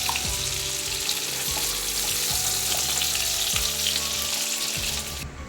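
Giant freshwater prawns fry in hot oil for a Bengali prawn rezala, a steady loud crackling sizzle with faint clinks of utensils as pieces are lifted out, with no talk.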